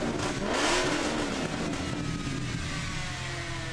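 A truck engine revs hard at close range, the pitch rising then easing back into a steady mid-range drone that holds for a few seconds with no voices over it.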